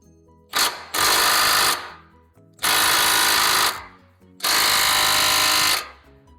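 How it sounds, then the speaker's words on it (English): Three loud bursts of hammering rattle from a Milwaukee M12 1/2-inch stubby impact wrench straining on a bolt on a mini skid steer undercarriage, each lasting about a second, with brief pauses between. "Milwaukee really disappointed me on this 1/2-inch stubby M12 impact."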